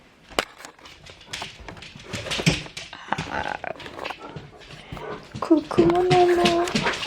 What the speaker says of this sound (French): Bon, tellement impatient ce chien.